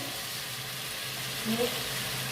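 A steady, quiet hiss of stuffed vegetables frying in a hot pan after water is sprinkled over them, continuous throughout with a slight swell partway through.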